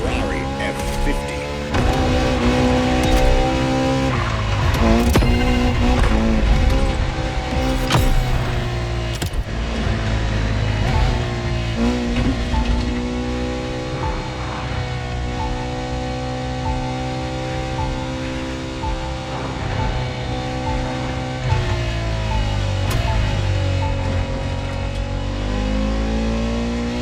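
Ferrari F50 engine in The Crew Motorfest, a loud sustained V12 drone that revs up and down with shifting pitch for nearly half a minute, with speech layered over it.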